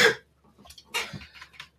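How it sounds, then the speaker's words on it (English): A person coughs once, sharp and loud at the start, followed by quieter rough throat sounds and breathy noises in an otherwise quiet room. "Oh man, I've got a bad cough as well."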